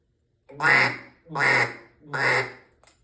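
Three loud, drawn-out duck quacks from a call, evenly spaced and close, with a faint click at the end.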